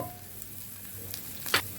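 Cumin seeds, ginger, garlic and shallots fry in a pan for a Kerala-style meal, giving a faint, steady sizzle with a brief louder crackle near the end.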